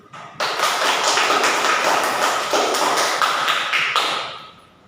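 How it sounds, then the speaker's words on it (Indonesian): Students in a classroom break into loud, dense clapping right up close, sustained for about four seconds before quickly fading out. "Kita beri aplaus dulu."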